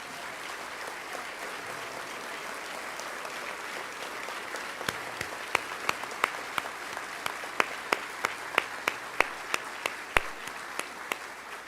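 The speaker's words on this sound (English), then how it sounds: "allow us to give you the round of applause that you deserve" Applause in a hall for the Corpus Christi Fire Department during a State of the City speech; a steady bed of crowd clapping, with sharper individual claps growing more prominent toward the end.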